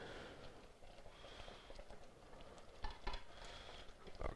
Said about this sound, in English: All I'm doing here is mashing up the beans